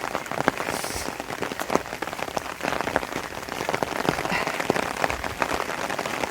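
Steady rain pours down and patters on surfaces nearby, a dense, constant hiss of drops with no talking.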